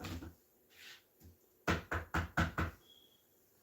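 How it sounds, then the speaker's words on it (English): Knuckles rap on wood in a quick run of about six sharp, close knocks, coming right after a couple of softer taps. "Knock on some wood on that one."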